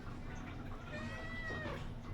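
A hungry baby kitten meowing, two or three thin drawn-out mews rising and falling, faint against a steady background hum, with no speech.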